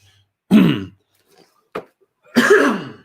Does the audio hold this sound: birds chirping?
no